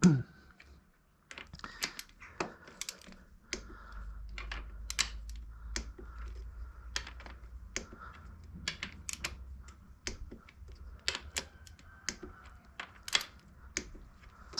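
A torque wrench clicks repeatedly while tightening bolts on a KTM engine during a piston rebuild, with sharp scattered clicks in quick clusters over a quiet workshop.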